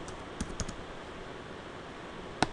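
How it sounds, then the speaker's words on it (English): Faint computer keyboard keystrokes as a password is entered, a few quick clicks near the start, a long quiet pause, then a sharp final key press near the end. "Just type the password"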